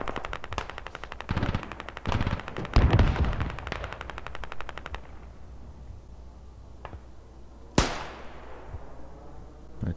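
Video game gunfire in a squad sniping match: a rapid automatic burst of shots over the first few seconds, heavier blasts around three seconds, then a single sharp loud shot near eight seconds ringing out, no talk.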